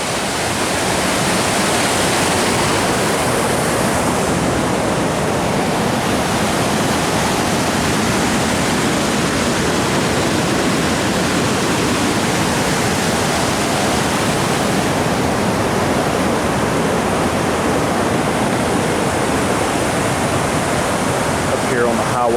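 The Hiwassee River flowing over carved rocks, a loud, steady, close rush of water with constant broadband roar and no pauses for the whole stretch.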